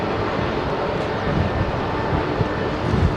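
A British Airways Boeing 777 jet at London Heathrow sends out a steady, broad jet roar. The sound is continuous and moderately loud, with no clear talk over it.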